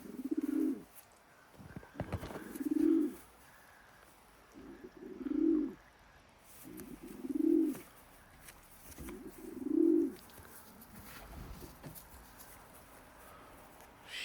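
A small blue bar pigeon hen coos close by in a soft, low, regular series of about five drawn-out calls spaced a couple of seconds apart, with quiet handling noise in between.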